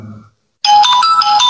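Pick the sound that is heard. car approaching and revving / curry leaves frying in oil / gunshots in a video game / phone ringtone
phone ringtone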